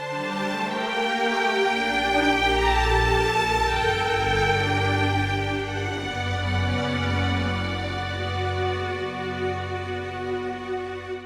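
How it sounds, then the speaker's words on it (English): A Spitfire Audio symphonic strings library plays an arrangement mixing legato and spiccato lines, full and sustained with deep low notes under bright harmonics, continuous and fairly loud with no talking. "First up is the symphonic strings"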